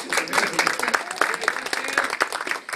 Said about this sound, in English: give Faith a nice round of applause